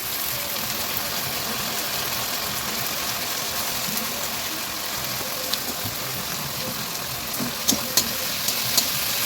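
Ginger-garlic paste and tomato frying in a pan, a dense continuous hiss of sizzling oil at steady level, with a few sharp clicks near the end and no talk over it.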